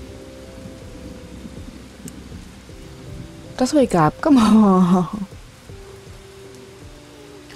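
Rain falling in the video game Bugsnax at night, a steady background wash that carries on beneath a loud voice talking over it.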